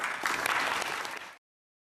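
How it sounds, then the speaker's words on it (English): Brief, dense applause from an audience after a senator's speech, a warm wash of many hands clapping at once that cuts off abruptly after just over a second. "We don't always get that kind of applause in the chamber."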